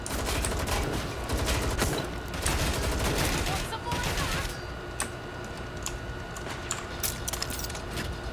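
Rapid pistol shots in the video game Watch Dogs Legion crackle in dense bursts over a busy game soundscape, easing into scattered sharper pops later on.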